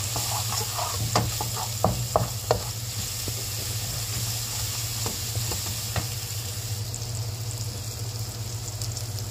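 A ground garlic and salt paste stir-fried in a pan, steady frying sizzle with a low hum beneath and a cluster of spatula scrapes and taps early on, then a lone knock later.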